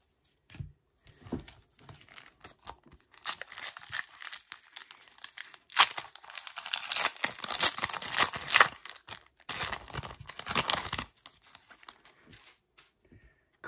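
Foil wrappers of 2006 Topps Chrome Football card packs are torn open up close, with sharp crinkling bursts and tearing separated by soft clicks and brief handling pauses.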